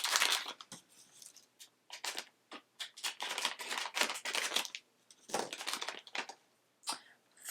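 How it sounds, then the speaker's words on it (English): Scissors snipping through makeup packaging, a string of close, crisp cuts and rustling crinkles in short irregular bursts with quiet gaps between them. "I'm having to cut them all open because there isn't that little like perforation for you to rip it"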